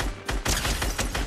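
Loud, rapid bursts of gunfire in a shooting video game fire in quick succession, filling the moment with dense, repeated cracks and no talking.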